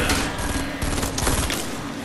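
Dense, loud bursts of rapid gunfire from the Fortnite campaign, continuous and overlapping with metallic mechanical clatter throughout.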